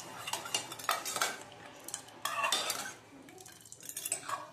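A spoon stirs turmeric powder into dal in a pan, giving a run of close scraping and clinking strokes against the metal, with brief louder bursts between quieter stretches.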